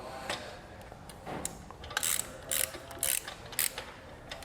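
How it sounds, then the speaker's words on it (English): A ratcheting tool tightens the bolts on a Curt PowerRide 5th wheel trailer hitch, with a quiet, rhythmic series of clicking ratchet strokes in short bursts, close by. "Now we'll come back with our 5mm Allen key and we'll tighten everything down."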